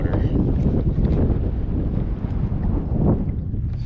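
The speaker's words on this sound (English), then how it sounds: "it's actually kind of windy here" Strong wind buffets the microphone out on open water during a fishing trip in Oregon, a constant loud roar with gusting rumble filling the whole clip, no one speaking.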